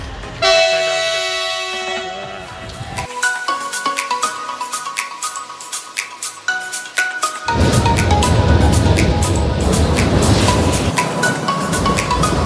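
At Guwahati railway station, a train horn sounds in a long sustained blast, followed by repeated shorter toots, then a loud rumbling roar of a passing train dominating the end.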